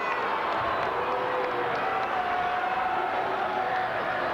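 A home crowd at a high school boys' basketball game in Moline, Illinois, reacting with a steady, dense murmur of voices and scattered cheers, continuous and moderately loud, heard from a distance.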